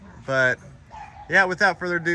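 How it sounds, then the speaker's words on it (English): Pet dogs in a house give high, yipping barks and whimpers, several short bursts close by, while someone speaks over them. "Sorry about my dogs"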